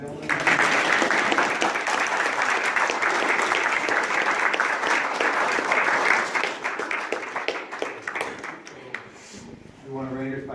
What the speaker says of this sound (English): One more round of applause for these fine gentlemen.